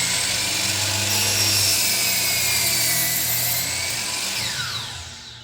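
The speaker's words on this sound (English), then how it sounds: "Let the blade get spinning full speed," A miter saw blade spinning at full speed and plunging into wood, a loud continuous whine with rising and falling pitch during the cut, easing off as the blade winds down at the end.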